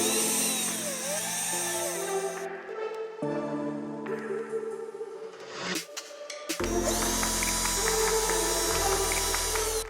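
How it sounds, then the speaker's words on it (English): A power drill cuts countersinks into a wooden fingerboard made of layered veneer plies, the motor whining steadily at close range with pitch shifts as the bit bites and briefly stops, then spins up again. "I like to drill down about 3 layers of the veneer."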